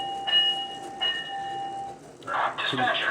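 A remote-triggered bell on a Lionel LionChief model train on an overhead man-cave layout rings twice with clear, decaying tones, then a burst of noisier sound that may include a voice follows.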